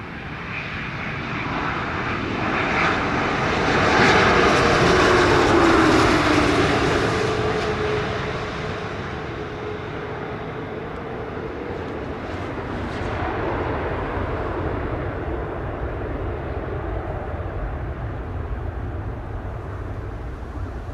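A WestJet airliner lands on runway 25 at Montego Bay airport, Jamaica. A loud jet roar swells, peaks around mid-clip, then settles into a steady rumble as the plane rolls out.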